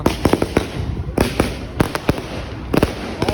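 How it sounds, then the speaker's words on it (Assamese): Diwali firecrackers crack in quick succession, several close sharp bangs in irregular clusters over a short stretch with faint talk behind. "বোমা ফুলি আছে পুৰা"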